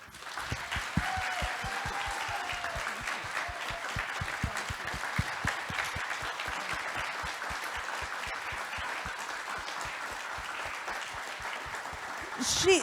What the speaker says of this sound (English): I would like you to join me to give a big clap